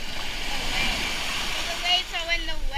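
Ocean waves washing onto a beach at St. Joseph Peninsula State Park in Florida, a steady broad rush of surf and splashing, with people talking over it.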